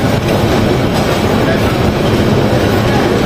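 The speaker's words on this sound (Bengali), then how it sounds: "তো আমাদের ট্রেন এখন নরসিংদী রেলওয়ে স্টেশন ছেড়ে গেল।" Kishorganj Express train pulling out of Narsingdi railway station, a steady, loud rumble of wheels and carriages heard from on board, continuous with no clear breaks.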